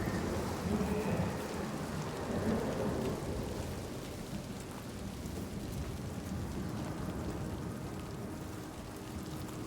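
A steady in-game storm from the video game Hellblade II, with continuous heavy rain and low rolling thunder filling the whole stretch at a fairly even level.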